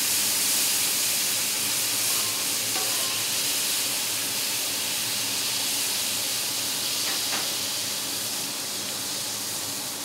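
Soy sauce sizzles and steams loudly on a hot outdoor hibachi-style griddle top, a steady bright hiss that fills the whole clip and fades slightly toward the end, with no talking.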